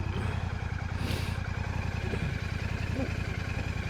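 A Royal Enfield Classic 650 motorcycle engine idles steadily nearby with a rapid, even thumping pulse and mechanical clatter, running continuously.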